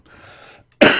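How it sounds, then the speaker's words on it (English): A single sharp cough bursts out loud and close near the end, following a stretch of quiet low murmur, from a man getting over a cold. "Excuse my coughing."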